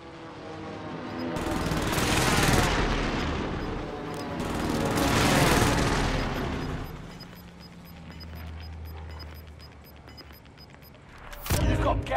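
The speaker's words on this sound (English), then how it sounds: "Allied precision airstrike incoming." Airstrike explosions and gunfire in Call of Duty: Modern Warfare: two long, loud rolling blasts with dense crackling fire, then a quieter rumbling tail and a final sharp burst at the end.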